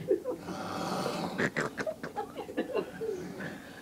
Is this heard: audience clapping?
no